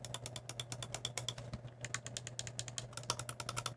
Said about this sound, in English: here's a mouse click.